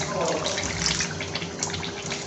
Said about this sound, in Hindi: वो हम पानी इसके अंदर हल्का हल्का सा ऐड करेंगे।